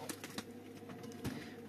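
Pigeons or doves cooing softly indoors in a bird rescue shelter during cold weather, a few faint, brief calls over a low room hum with no talk.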